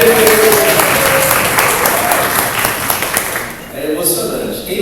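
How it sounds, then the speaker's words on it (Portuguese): Audience applause in a church-style class gathering, a full round of clapping that fades after a few seconds as a voice speaks over it. "Salva de palmas."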